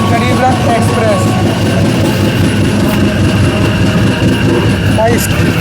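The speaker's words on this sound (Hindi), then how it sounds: "बगल से निकलने वाली है रांची न्यू दिल्ली गरीब रथ एक्सप्रेस" A Ranchi–New Delhi Garib Rath Express rushing past at 130 km/h, heard from a neighbouring moving train as a loud, continuous rumbling roar with faint wheel squeals and rail clatter.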